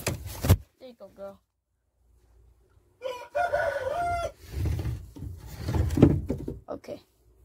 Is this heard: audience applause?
no